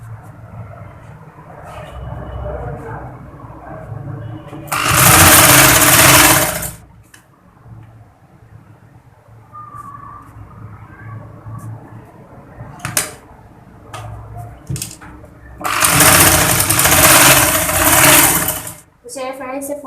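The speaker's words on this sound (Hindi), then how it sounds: "इस तरह फोल्ड करते जाएंगे और सिलाई लगाते जाएंगे।" Home sewing machine stitching a fabric surgical face mask, two loud, steady whirring runs close by, separated by a quieter stretch where someone talks.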